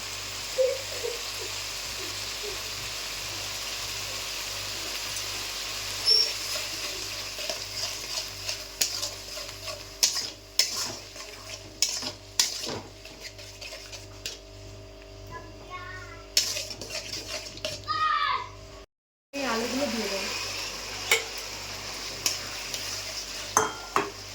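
Rohu fish with sour curd and salt is stir-fried in a pan, giving a steady sizzle with repeated scraping and clinking of a spatula against the metal, close and fairly quiet, with a brief break near the end and no talking.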